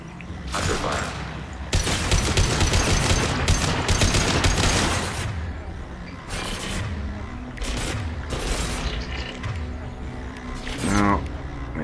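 Weapons fire crackles through a Mass Effect 2 battle in bursts of rapid shots and booms, loud and close, while someone talks over much of the fighting.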